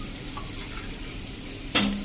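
Masala frying in a pan for dhokli curry sizzles quietly on a low flame, then about a cup of water is poured in, setting off a sudden loud hiss that slowly settles, with no one speaking.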